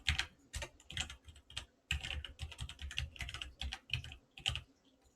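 Someone types a command on a computer keyboard in bursts of rapid, crisp key clicks, broken by short pauses and a few heavier keystrokes. The typing is close and clear, with no talking.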